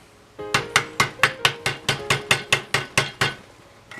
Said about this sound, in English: hammer on the edges,